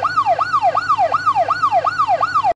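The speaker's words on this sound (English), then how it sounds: "It is a police car siren." A rapid, rising-and-falling siren wails steadily, about six quick sweeps in a couple of seconds, loud and close, then cuts off abruptly.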